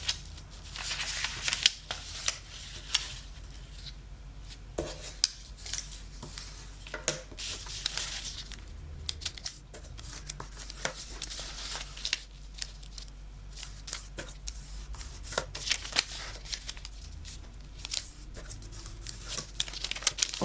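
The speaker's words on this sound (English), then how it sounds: "Open, turn the paper, and we are going to bring all the corners to the center." Sheets of paper being folded for an origami kusudama, with steady soft crinkling, rustling and crisp creasing taps close by, continuing throughout without talk.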